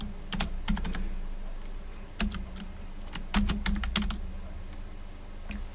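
Computer keyboard typing in quick irregular bursts of clicks, close and fairly clear, with short pauses between runs and no talking.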